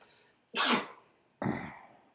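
Two sneezes from one person, the first a sharp loud burst and the second slightly weaker, close up, with quiet pauses around them.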